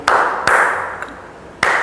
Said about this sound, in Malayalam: ഇങ്ങനെ 2-3 പ്രാവശ്യം ക്ലാപ്പ് ചെയ്തു.